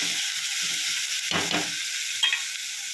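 Ingredients sautéing in a hot pan, a continuous close hiss of frying broken by a couple of louder bursts of stirring.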